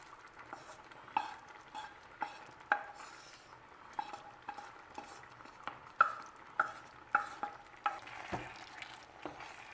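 Vegetables sizzle in a pan for a spring vegetable risotto, with a steady quiet fry broken by regular sharp knocks and scrapes of a utensil against the pan, close and without talk.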